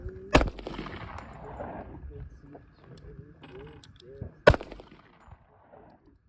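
Two loud, sharp gunshots crack at an outdoor firing range about four seconds apart, each followed by a short echo, with people talking in between.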